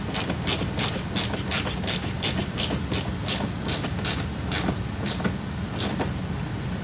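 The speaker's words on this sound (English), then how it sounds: "We're going to fully tighten it down, starting with that middle mounting point" A ratcheting tool tightens the middle mud flap mounting point on a Tesla Model Y, a loud, close, evenly spaced series of clicks repeating steadily throughout.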